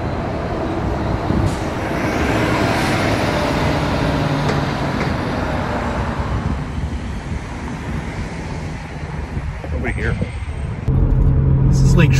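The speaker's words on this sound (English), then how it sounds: "there's no traffic except the buses, and the buses just have a total run of the place" Buses rumble through empty downtown streets on a morning with no other traffic, a steady engine drone joined by wind buffeting the microphone, with a hiss like an air brake near the end and a louder pass at the close.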